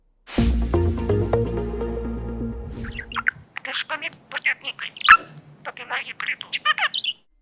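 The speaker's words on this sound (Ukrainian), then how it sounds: "Це хвилястий папуга Кеша, який більше року живе у відділі килимарства Всеукраїнського центру вишивки та килимарства у Решетилівці" A pet budgerigar parakeet kept in a carpet-weaving workshop gives a run of quick chirps, clicks and squawks, close and fairly loud. Someone speaks over the start before the bird is heard alone.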